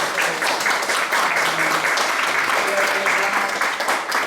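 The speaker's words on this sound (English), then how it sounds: "A round of applause for that." Audience applause at a book launch for a novel, a steady dense clapping that fills the whole stretch, with faint voices and cheers mixed underneath.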